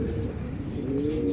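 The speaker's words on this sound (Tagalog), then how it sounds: "meron tayong dalawang ibon dito, NHPC birds" Racing pigeons coo softly and close by at a club training session in Pagsanjan, Laguna, a low burbling call running through the short stretch with no talking.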